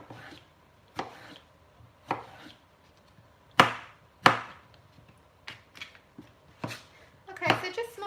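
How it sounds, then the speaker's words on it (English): A knife chops through cauliflower on a cutting board in distinct, irregular thuds and crunches, about a dozen strikes spaced unevenly and clustering near the end, while a person talks quietly between cuts. "Let's chop."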